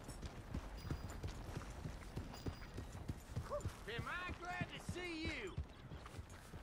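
Horse hooves clip-clop on the ground in the video game Red Dead Redemption 2, a rhythmic run of close hoofbeats carrying on through the whole stretch, with someone talking over part of it.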